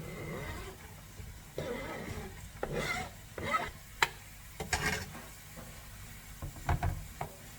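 Freshly chopped onion hits a hot sauté pan for an aubergine appetizer, giving an intermittent sizzle broken by scraping stirs and a few sharp utensil knocks, close by with no talking.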